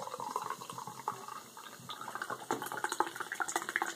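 Red Bull Yellow Edition energy drink pours from a can into a glass, a steady close fizzing splash with crackling carbonation and no talk.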